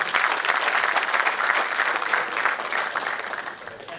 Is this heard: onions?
no